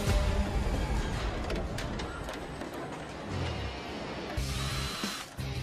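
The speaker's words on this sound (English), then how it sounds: "This team makes using a drill look like spreading butter." A power drill whirs steadily and loudly at close range while fitting door components on a Jaguar XJ, its pitch shifting slightly as it bites, with brief changes in motor load near the end.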